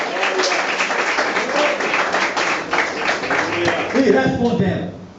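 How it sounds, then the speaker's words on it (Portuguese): A church congregation applauds, with sustained clapping across the whole stretch and voices and cheering mixed in. "Palmas para o Senhor Jesus."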